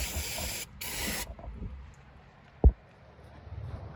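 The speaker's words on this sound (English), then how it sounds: "And I'll give it a little spray with some water from my water bottle," Two short hissing squirts of water from a handheld water bottle onto an engine part of a Toyota 80 Series, followed by quiet handling noise and a single soft thump.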